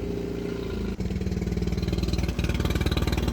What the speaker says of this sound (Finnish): vedet päälle ja kone käyntiin